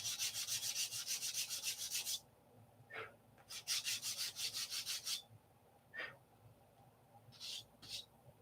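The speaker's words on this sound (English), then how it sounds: "And new piece of sandpaper on there. Now this is not 150, it's 180." Balsa wood being sanded by hand with 180-grit sandpaper, rapid rhythmic back-and-forth rasping strokes in two long bursts and a short one, close up, with a few soft knocks between and no talking.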